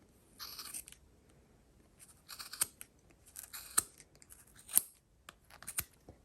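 Small scissors snip through a wool pom-pom on a pom-pom maker, sharp crisp cuts in irregular clusters with quiet pauses between, close to the microphone.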